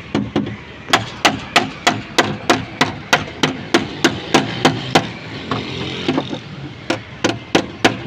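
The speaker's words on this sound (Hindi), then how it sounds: "अभी ये हम फेंडर का डेंट निकाल रहे हैं" Sharp metallic hammer blows knocking a dent out of the fender of a pearl white Toyota in a body shop, about twenty steady, evenly spaced strikes close by with only a short pause partway through.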